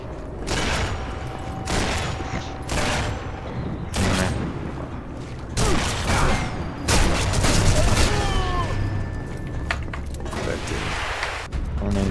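Gunfire in the video game Sniper Elite 4 crackles in loud bursts and volleys with booming impacts, spread across the clip, while people talk over the shooting.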